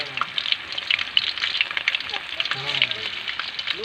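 Chicken frying in oil in a home kitchen crackles and sizzles with fast, uneven pops close by, while a voice talks briefly over the frying.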